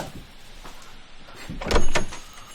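A door opens in the Gravity Falls cartoon episode "The Hand That Rocks the Mabel": soft clicks of handling lead to a louder thud and swing near the end, alone with no talk.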